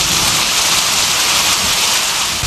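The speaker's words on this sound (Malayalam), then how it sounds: "പണ്ടാരം പിടിച്ച മഴ." Heavy rain pours down steadily in a radio drama scene, a dense, loud, unbroken hiss of falling water with no voices over it.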